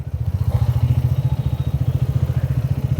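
A 2024 Hero Karizma XMR motorcycle engine idles close by with a steady, rapid low thumping rhythm and a faint rattle, no voices.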